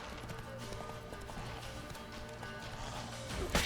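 A horse's hooves clip-clop in a steady running rhythm in The Witcher 3, over game music and ambience, ending in a brief louder crash.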